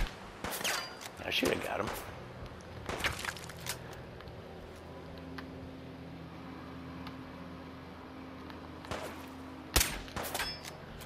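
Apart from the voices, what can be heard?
combat rifle gunfire in video game Fallout 4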